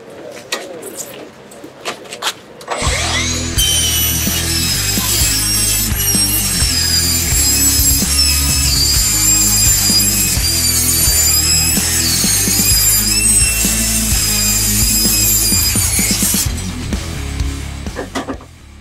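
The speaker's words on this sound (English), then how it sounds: "We're going to show you how fast you can cut when you're cutting versus grinding." A Diablo saw blade bites into 16 gauge steel with a loud, sustained metallic scream and grinding whine that starts abruptly, holds steady for about fifteen seconds, then winds down.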